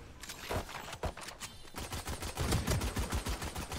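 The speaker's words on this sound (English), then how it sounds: "good shots there by Knight" Rapid bursts of gunfire crackle in an esports shooter match, with dense overlapping shots that settle into a quick, evenly spaced rhythm of loud reports.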